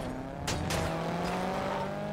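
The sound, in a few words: car driving in the video game GTA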